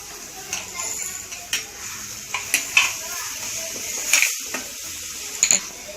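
Ginger-garlic paste being stirred into onions frying in oil with salt, a spoon scraping the pan in repeated strokes over a continuous close sizzle.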